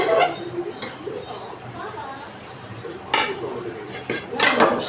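Clattering of a metal wok (kadai) being scrubbed clean on its back, with repeated scraping and clinking bursts, loudest near the start and toward the end, fairly close.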